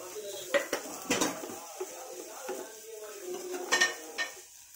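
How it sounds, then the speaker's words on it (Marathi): Rice being stir-fried in ghee in a pan, with repeated metal spoon scrapes and clinks against the pan over a faint sizzle, close and fairly soft with no speech. "तांदूळ जेवढा तुम्ही तुपामध्ये व्यवस्थित फ्राय करून घ्याल ना तेवढा हा छान भात मोकळा सुटसुटीत तयार होईल"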